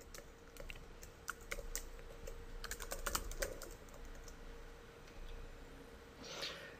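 Computer keyboard being typed on, quick irregular bursts of light plastic key clicks with brief pauses between, close and fairly quiet, no speech.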